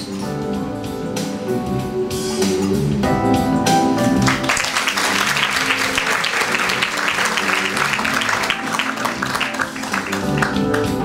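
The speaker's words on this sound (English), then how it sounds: "when she smiled, they burst into rapturous applause" A comedy show audience in Edinburgh breaks into rapturous applause, the clapping swelling from scattered claps into a loud, sustained ovation that carries on to the end.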